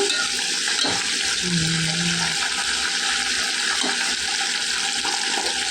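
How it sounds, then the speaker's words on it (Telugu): Curry leaves frying in hot oil for a spinach dal, giving a steady close sizzle and crackle with a few stirring knocks. "కొద్దిగా వేగాలండి కరివేపాకు"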